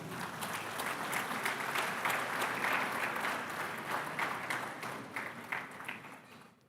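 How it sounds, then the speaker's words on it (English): Audience at the opening session of an international e-learning conference in Ghana claps to welcome a speaker, steady applause that thins and tapers off toward the end. "with a round of applause, please let's welcome Mr."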